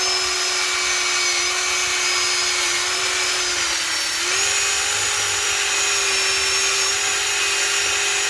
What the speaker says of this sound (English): I'm going to take a wire brush